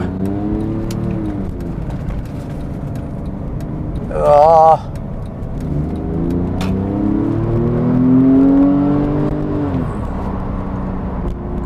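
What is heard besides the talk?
Porsche 911 Carrera S accelerating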